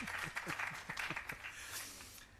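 An audience at a Bureau of Standards Jamaica campaign launch clapping, a short run of sharp, evenly spaced claps that thins out after about a second and a half.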